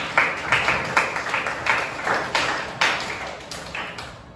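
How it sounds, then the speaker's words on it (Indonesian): A classroom gives a round of applause after a group presentation, a series of separate sharp claps that come in a loose, slightly uneven rhythm and sound fairly close. "silakan beri tepukan"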